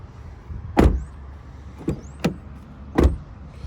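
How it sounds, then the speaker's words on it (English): The door of a 2021 Chevrolet Blazer 3LT AWD shuts with a solid thump, among four sharp, close clunks spaced across a few seconds with no talking. "Sound of the door."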